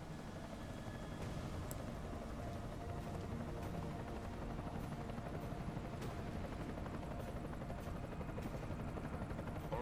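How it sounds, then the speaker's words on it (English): An enemy helicopter approaches in the video game Deus Ex: Mankind Divided, its rotor chop a faint, steady thrum under a low background rumble. "Enemy helo sighted."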